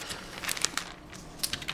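Plastic wrapping bag, the kind used for dabbing inks in card-making, crinkles in short irregular crackly bursts as it is handled up close, fairly quiet and without speech.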